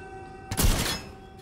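A single heavy blast from a one-handed shotgun in the sci-fi horror game The Callisto Protocol, a loud booming shot with a brief deep thud and short tail over a steady game hum.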